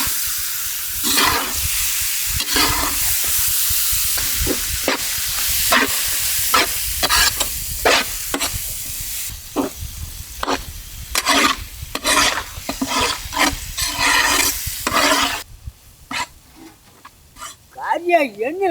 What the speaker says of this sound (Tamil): கறியா எண்ணெயில் போட்டு நல்லா பிரட்டி எடுக்கணுமுக்கா